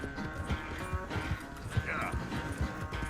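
Horse hooves clip-clop in a steady walking rhythm in the video game Red Dead Redemption 2, fairly quiet under ongoing game ambience, with occasional voices nearby.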